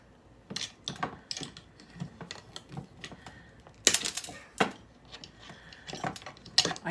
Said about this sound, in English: I'm just cutting off the wires